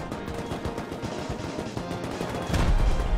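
Rapid bursts of automatic gunfire during a Rust base raid, dense overlapping shots crackling continuously and swelling louder near the end as the attackers push through smoke.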